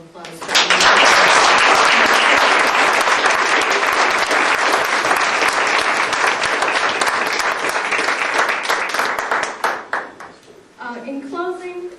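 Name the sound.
audience applause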